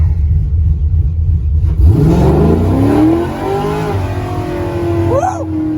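Truck engine fitted with a Performance Design Carbon intake revving hard, a loud sustained roar rising in pitch and then holding steady, close to the listener.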